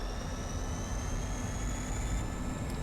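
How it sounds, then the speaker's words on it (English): A MiG-21 jet's afterburner roars during takeoff in the DCS flight simulator: a loud, steady, broadband engine rush with a thin whine slowly rising in pitch underneath, heard alone. "Once the afterburner lit, we get going."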